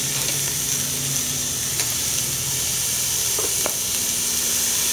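Porterhouse steaks sizzle steadily on a Craycort Little Smokey grill grate, a continuous close frying hiss with no talking.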